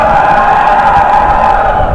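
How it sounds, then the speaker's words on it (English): Crowd of Xiaomi fans cheering at the Redmi K20 and K20 Pro launch event, a packed room of several hundred people sending up a steady, dense roar of voices and whoops that holds throughout. "Mi fans, give me a cheer."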